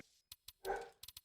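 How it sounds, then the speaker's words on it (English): A dog barks indoors in short, sharp yips and one longer, whiny bark, several quick barks in a burst, fairly close but quiet overall. "I have no idea what my dog is barking at."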